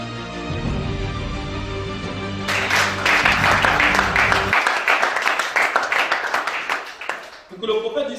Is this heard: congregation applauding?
yes